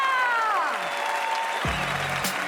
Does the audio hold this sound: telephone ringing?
no